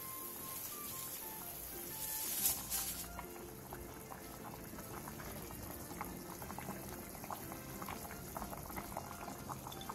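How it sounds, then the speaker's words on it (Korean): A pot of soy pulp stew (biji jjigae) with salted shrimp, soybean curd residue, cheongyang chili and green onion bubbling steadily at a close, even boil, a brief louder burst early on, with no talking. "15분 뒤 새우젓 1스푼, 콩비지 2컵, 청양고추, 대파를 넣고 5분 정도 더 끓여주세요."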